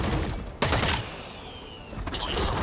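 Gunfire in the EVE Online first-person shooter comes in two loud rattling bursts, one early and one late, over a rumbling battle background.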